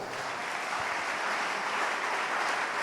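Church congregation clapping and cheering in sustained, steady applause that fills the space, with no pauses over its short span.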